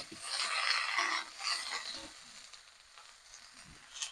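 Boiled potatoes and cauliflower sizzle in hot oil in a pan, a steady hiss that swells loudly in bursts over the first two seconds, then settles to a softer crackle, heard alone.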